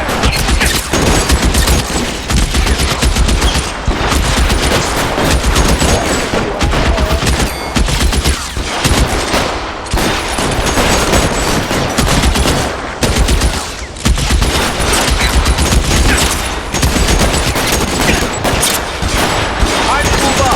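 Sustained heavy gunfire in the crime game L.A. Noire during a shootout at an electroplating plant, loud and continuous bursts of rifle and pistol shots layered into a dense fusillade, with short lulls between volleys.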